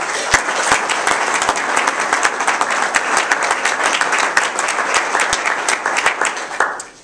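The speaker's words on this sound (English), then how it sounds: "please, give yourselves a round of applause" An audience at an appreciation reception breaks into loud, sustained applause, dense clapping from many hands close by that holds steady for several seconds and then fades out.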